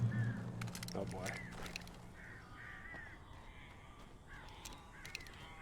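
Crows caw several times in the video game Alan Wake, fairly faint and harsh. A voice talks over the start of the calls.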